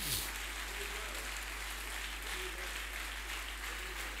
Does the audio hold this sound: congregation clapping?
yes